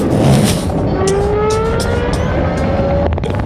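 Loud rumbling rush of the world's fastest and largest roller coaster running past, with a rising whine like an accelerating motor sweeping upward before clattering bursts near the end.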